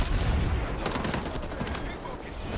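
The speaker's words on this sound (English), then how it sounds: "Oops, I'm not even shooting at the right thing." Dense video-game gunfire rattles in rapid, continuous bursts during a shooter match, loud and close from start to finish.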